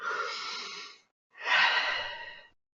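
Two long, airy breaths during a guided emotional release exercise, each lasting about a second with a brief silence between them, close and soft with no talking.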